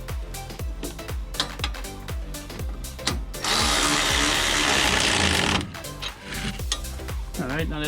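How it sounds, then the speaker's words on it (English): A power tool whirs and ratchets in repeated short bursts, then runs in one long steady buzz, tightening strut bolts during a 2-inch Ready Lift leveling kit install on a 2020 Chevy Silverado 1500. "you can go ahead and tighten down those strut bolts nice"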